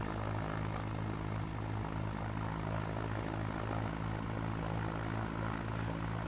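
A Piper Cub light airplane's engine drones steadily in flight at about 900 feet pattern altitude, a loud, even propeller hum that continues without a break from start to finish.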